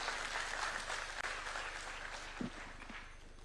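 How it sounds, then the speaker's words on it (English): An audience at a summit in Nairobi, Kenya claps in steady, dense applause to welcome a speaker, heard from a distance and fairly faint, with a voice briefly rising over it near the end. "Let's welcome him with a clap, please."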